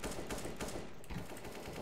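Rapid, faint bursts of automatic gunfire in the video game CS:GO crackle in quick succession, sounding distant and slightly muffled throughout.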